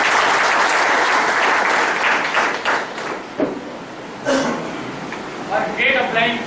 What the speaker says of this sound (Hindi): ग्रेट अपलाइन उत्तम सुरक्षा के लिए जबरदस्त ताली चाहूंगा।